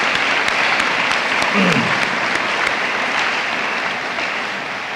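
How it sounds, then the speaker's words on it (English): Sustained round of applause from a banquet audience at a high school Irish football awards night, dense steady clapping filling the room for several seconds and slowly easing toward the end. "if everyone would give them a round of applause"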